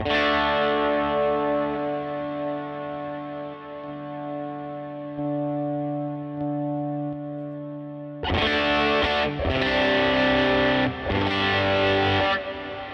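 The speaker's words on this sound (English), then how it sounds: "That massive reverb." Electric guitar played through an FM3 Deluxe Tweed amp model with heavy reverb: a long sustained chord ringing and decaying, then a louder burst of strummed chords with a washy tail, no voices.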